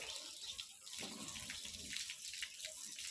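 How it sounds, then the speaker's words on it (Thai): Tap water runs softly and steadily while an elderly mother is bathed, a faint continuous splashing stream with small irregular spatters and no talking. "ตอนนี้พาคุณแม่มาอาบน้ำแล้วนะคะ"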